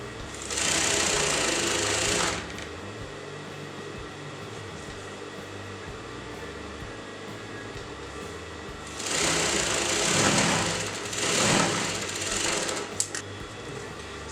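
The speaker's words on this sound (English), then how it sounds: "I'm going to sew the neck side like this." A sewing machine stitches the neck side of a fabric poncho in two loud running bursts, the first about two seconds long and the second longer and broken, with a quiet hum between them.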